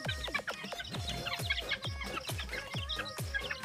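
One-month-old chicks in a lit coop, cheeping and peeping continuously in a busy chorus, close and moderately loud, with no talk.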